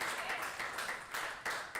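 Sustained audience applause at a Sunday gathering, a dense steady wash of many hands clapping with small surges, fairly close and loud throughout.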